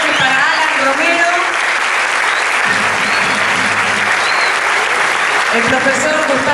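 Loud, sustained applause from a concert audience at a gala concert by an instrumental and vocal ensemble, a continuous roar of many hands with faint crowd voices underneath.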